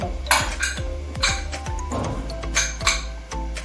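A lid goes onto a cooking pot while raw-mango panna is made at home, producing a string of bright metallic clinks and taps, close and fairly loud, spaced irregularly across a few seconds.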